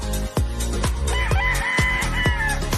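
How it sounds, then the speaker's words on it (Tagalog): Several fighting-cock roosters crow in overlapping calls, loud and close, with clucking fowl around them and a busy farmyard backdrop. "klase-klase nga manok, mga dekalidad nga mga manok, panabong"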